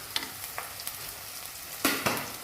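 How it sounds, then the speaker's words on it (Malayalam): Sliced onions and green chillies sizzle in a pan for a tuna roast, a continuous frying hiss with a few sharp stirring scrapes and a louder burst near the end. "സവോളയുടെ ഒപ്പം തന്നെ നമുക്ക് പച്ചമുളക് കൂടി ഇട്ട് കൊടുക്കാം"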